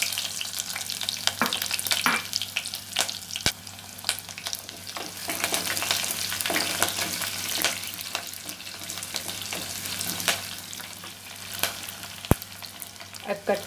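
Half an onion sizzling in hot oil with a couple of pinches of fenugreek in a single pot, the start of a tamarind gravy; steady close frying crackle with occasional stirring clinks, no talk.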